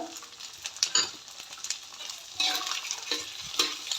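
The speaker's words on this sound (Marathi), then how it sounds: "मला मस्त असे छान मऊ पडेपर्यंत भाजायचे आणि याच्यातच ह्या हिरवी मिरची टाकायची" Green peas roast in a pan with green chili, giving a steady close sizzle with scraping stirs and a few louder clatters of a spoon against the pan.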